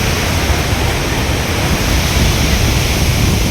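Athirappilly waterfall thunders nearby in a dense, steady roar of falling water, loud and unbroken with no voices over it.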